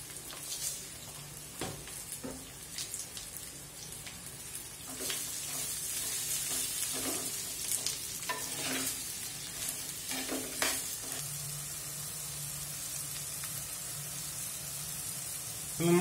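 Onions frying with salt in a pan make a low, constant sizzle, broken in the first half by a series of spatula scrapes and knocks that thin out later, leaving mostly steady frying.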